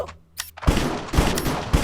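Rapid gunfire bursts in a Minecraft-based CS:GO-style game, several sharp loud shots in quick succession after a few quieter clicks at the start.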